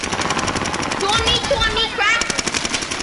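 Rapid bursts of gunfire in a Call of Duty video game, sharp repeated shots crackling over several seconds with a voice talking over them.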